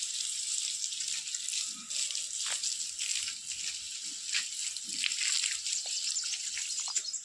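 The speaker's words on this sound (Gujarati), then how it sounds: "અત્યારે આગળના ભાગમાં પાણી ચાલુ કરી દીધું" Water runs steadily from a garden hose onto a backyard lawn, a continuous close hiss with no pauses and no talking.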